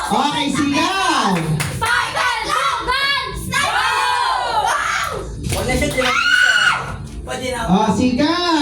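A crowd of relatives at a family New Year party shouts and screams loudly in a shouting contest, overlapping yells and whoops rising and falling close by, with some clapping mixed in.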